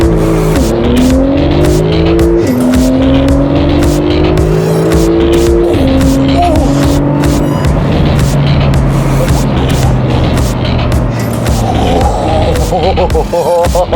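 A TechArt-tuned sports car makes a launch-control standing start, its engine screaming up through several gears with quick shift breaks and audible tire noise, loud and close throughout.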